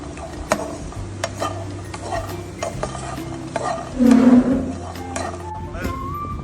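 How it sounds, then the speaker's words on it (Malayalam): Rice being dry-roasted in a pan for cashew rice balls, with a soft steady stirring scrape and faint sizzle, a brief louder rattle of grains near the middle, close and alone without talk. "അരി വറുക്കണം ആദ്യം."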